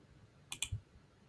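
A computer mouse gives a couple of quick, faint clicks close together against a quiet background.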